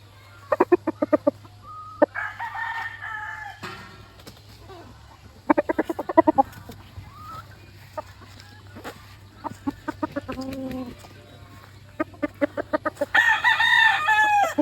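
Gamefowl rooster, a winning broodcock from a gamefarm, crows in repeated loud bursts with clucking between, close to the mic over a steady low hum.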